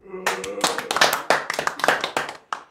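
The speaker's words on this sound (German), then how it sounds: "Ja, kurzer Applaus" Brief, sparse clapping from a small group gathered for a charity ride event, loud and close individual hand claps, with a voice talking over the start.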